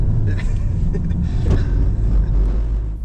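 A 2025 Volkswagen Golf R engine under throttle while drifting on track, a loud, steady rumbling drone from inside the car that holds constant over a few seconds.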